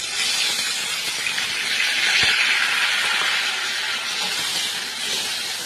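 Onions fry in a pan for a jackfruit curry with a loud, even hiss of sizzling that holds steady throughout, close by and without any voices.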